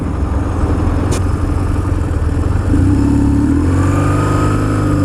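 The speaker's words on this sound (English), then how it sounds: "first gear, I noticed that you really gotta give it some revs" A BMW R1150GS motorcycle engine revs hard in first gear, loud and close, its pitch climbing steadily as it accelerates over a constant rumble.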